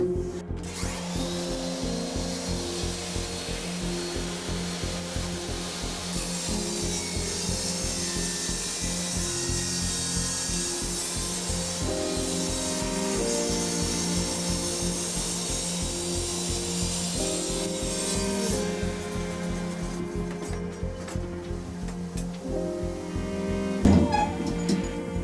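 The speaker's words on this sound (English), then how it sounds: "I'm going to get some of the wood broken down before I go" Wood being sawn down into pieces for a woodworking project, a steady continuous run of power-saw cutting with a constant mechanical hum and rasping friction throughout, fairly close and with no talk.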